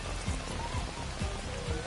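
Steady in-game rain from Astro's Playroom, a Heavy Rain reference, hisses evenly and close, with soft low thumps recurring about every half second beneath it.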